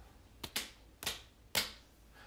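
Children clapping along to a song, four sharp separate claps in a loose uneven rhythm, close by and fairly quiet, with no talking.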